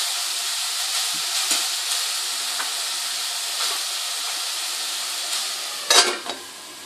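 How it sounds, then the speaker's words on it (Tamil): Vegetables and vermicelli for semiya kichadi cook in oil under a lid on low flame, giving a steady close hiss and sizzle with faint stirring. A brief metallic clatter comes near the end. "நல்லா எண்ணெயில் வதங்கியிருக்கு"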